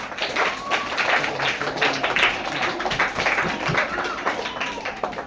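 Studio audience clapping for a student contestant on a Kannada television quiz show, a steady, dense burst of applause lasting several seconds without a break.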